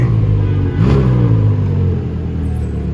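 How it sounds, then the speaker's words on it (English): A McLaren sports car on a SoHo street in New York City gives a loud, close engine rumble that swells in a brief rev, then settles back to a steady low drone. "The McLaren is back."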